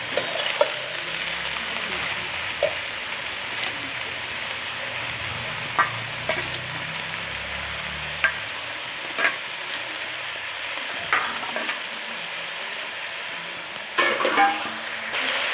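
Mixed vegetables and a fish head in a pan, sizzling softly as a spoon turns them slowly, with occasional scrapes and taps against the metal over a steady frying hiss.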